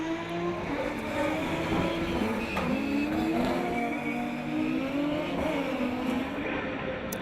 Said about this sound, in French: Florent Béduno qui plonge dans son tour joker et qui ressort juste derrière Marc Maurice.